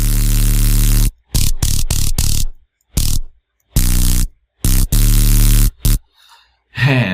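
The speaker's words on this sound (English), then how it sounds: "It's just a lot of white noise." Loud white noise hiss from a synthesizer sound patch, cut into bursts of varying length separated by abrupt silences, with a faint softer noisy texture near the end before the hiss returns.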